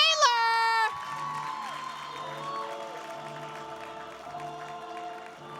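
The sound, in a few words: audience clapping and cheering for the headliner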